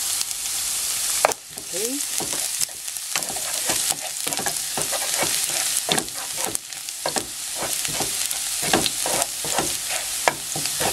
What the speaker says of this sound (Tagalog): Meron dito tayong cooking oil. Lagay natin ang garlic.